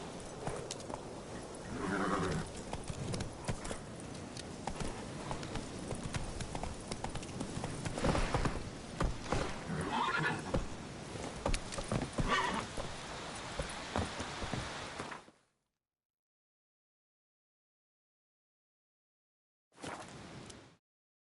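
Roach the horse galloping in The Witcher 3, a steady rapid clip-clop of hooves at close range for about fifteen seconds, then a gap of silence before a brief return of hoofbeats.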